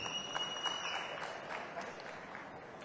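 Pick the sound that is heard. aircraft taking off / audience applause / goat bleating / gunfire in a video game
audience applause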